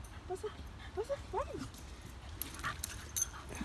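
A small dog yips and whimpers in a few short, high bursts amid outdoor background noise and scattered voices.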